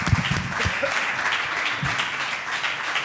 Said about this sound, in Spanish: Un aplauso para Yarro de Dios